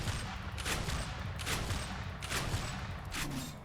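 Weapons fire continuously in the sci-fi shooter game Tribes 3, a series of four evenly spaced heavy shots with booming low thumps and sharp bright cracks, each ringing out over constant background noise.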